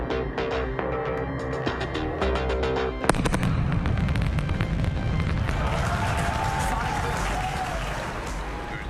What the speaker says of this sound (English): you're going to hear the sonic booms